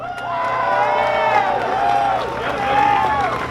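A large outdoor crowd at a San Jose anti-Asian-hate rally cheers and whoops loudly, with sustained shouts and scattered clapping swelling in waves across the whole stretch.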